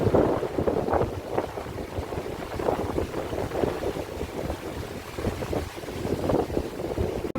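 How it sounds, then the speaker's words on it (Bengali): Heavy rain and strong wind batter a rocking boat on the Ganges, a dense continuous roar of gusts and pelting drops that swells and eases throughout. "জোরে জোরে বৃষ্টি পড়ছে আর সেই সঙ্গে খুব হাওয়াও আসছে"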